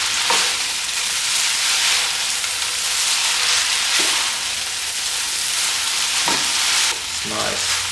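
Flat rice noodles with dark soy sauce fry in a hot wok with a constant bright sizzle, broken by occasional scraping tosses of the spatula, close up and free of speech.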